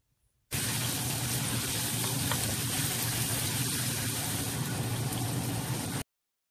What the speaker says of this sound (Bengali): তো এখন আমি একটা চড়া প্যানের মধ্যে তেল দিয়ে দিয়েছি দিয়ে দিয়েছি দুইটা তেজপাতা আর দুই টুকরা দারুচিনি দিয়ে দিয়েছি পেঁয়াজ